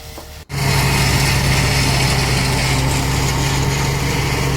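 A tractor works through a cotton field, crushing the cut cotton plants, its engine starting with a sudden roar and holding a loud, continuous, close drone with grinding noise from the machinery.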